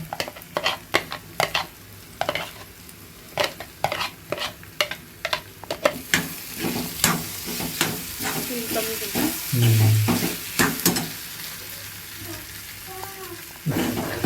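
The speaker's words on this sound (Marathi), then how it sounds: "थोडंसं मिक्स करून घेऊ अशा पद्धतीने व्यवस्थित तेलामध्ये फ्राय झालं पाहिजे ते" Chopped ginger and garlic fry in oil for schezwan chutney, a loud close sizzle broken by repeated spoon strokes against the pan and a low hum in the background.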